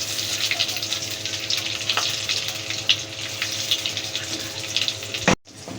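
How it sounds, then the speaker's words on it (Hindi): Rashmi kebabs deep frying in hot oil, a dense continuous bubbling sizzle close up, steady for several seconds before cutting off abruptly near the end. "ज़रा थोड़ा सा और डीप फ्राई होने दें।"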